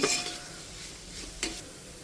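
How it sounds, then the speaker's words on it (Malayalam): Onions sautéing with salt in a pan, a soft low sizzle broken by two brief scraping strokes of a spatula against the metal, with no one talking. "സവാളയിൽ നമ്മൾ ഉപ്പിട്ട് കൊടുക്കുന്നുണ്ട്. നന്നായിട്ട് വഴറ്റി എടുത്തിട്ട്"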